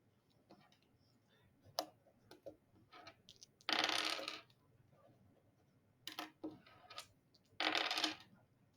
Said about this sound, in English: the way to randomize it is roll the dice, two dice preferably